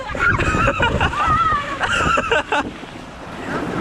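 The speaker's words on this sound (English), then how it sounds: "You get nice and splashed?" Water splashes at the end of a waterslide at Cultus Lake Waterpark in British Columbia, a close, rushing spray that fades out after a couple of seconds while voices are heard over it.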